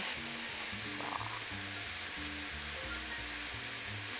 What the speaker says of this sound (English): we're just going to toss that around Making sure that all of the greens have got a little bit of that garlicky chili oil on them